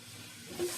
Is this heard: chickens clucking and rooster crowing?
no